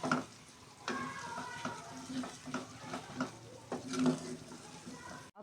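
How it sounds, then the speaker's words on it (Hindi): Beans, about one and a half pav, frying in a pan of Bengali-style fish curry, a soft steady sizzle with intermittent scraping stirs and a few clinks of utensil against the pan, fairly quiet and without voices. "थोड़ा सा इसको भूनेंगे।"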